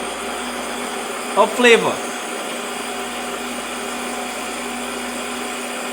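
A blender whirs steadily as it purées a maple syrup garlic chicken wing sauce, then gives a brief burst and a falling whine midway before settling back into a constant hum, with faint talk over it.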